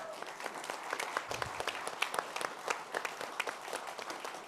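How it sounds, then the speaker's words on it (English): Audience applause at a mayoral candidate debate in Hutt City, a dense steady patter of many hands clapping together for several seconds, fairly distant and moderately quiet, with no talk over it. "Can we give them a warm round of applause?"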